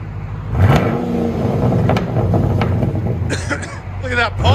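A 2009 Pontiac G8 GT with a 6.0L V8 and muffler-deleted true dual exhaust revs loudly and steadily up close, with sharp exhaust pops near the end while people talk over it.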